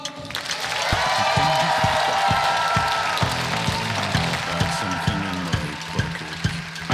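A comedy show audience applauding Serhiy Prytula's jokes, a broad wash of clapping that swells and holds steadily, with cheering voices mixed in throughout.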